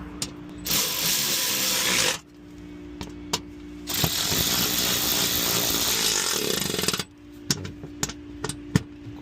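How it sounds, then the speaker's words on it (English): A power tool, likely an impact driver or ratchet, fastens 10mm bolts on a 2019 Honda CR-V during an engine oil service. Two loud, close, sustained whirring bursts are separated by short quieter gaps with small clicks, and no one speaks. "I will fasten down these 10mm bolts."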